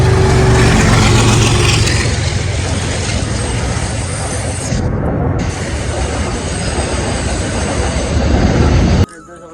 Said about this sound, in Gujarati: તમે જોઈ શકો છો રેલગાડી આવે છે